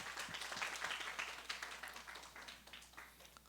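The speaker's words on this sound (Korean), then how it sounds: "큰 영광의 박수를 올려드립시다." A church congregation claps during Sunday worship, a faint, dense spatter of hands that gradually thins and quiets, with a low steady hum beneath.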